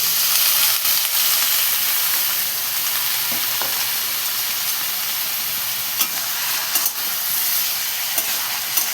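Cauliflower and capsicum with turmeric frying in a pan, a steady loud sizzle and hiss throughout with occasional small pops and stirring clicks, no voices.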